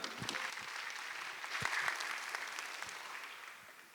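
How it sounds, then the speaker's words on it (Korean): An audience at a Korean community presentation event applauds as the presenters come forward. The clapping is fairly faint and distant, a soft patter that gradually fades toward the end. "발표자분이 나오셨는데 큰 박수 부탁드립니다."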